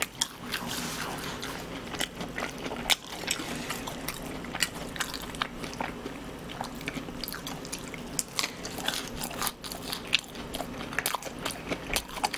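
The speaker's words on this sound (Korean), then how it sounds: "후라이드 치킨, 고수 치킨에 감자튀김, 치즈 스틱 그리고 샐러드까지 잘 먹을게요." Eating fried chicken, coriander chicken, french fries, cheese sticks and salad, with close, steady crunching and biting sounds that repeat irregularly throughout, alone with no talking.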